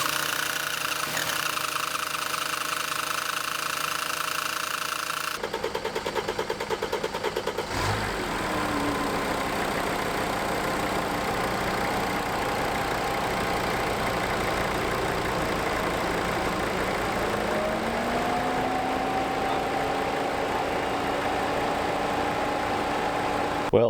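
Cheap Mercedes CLK with a cracked rocker cover turning over on the starter before catching, then running steadily at idle with a rev that rises and holds, close and loud throughout.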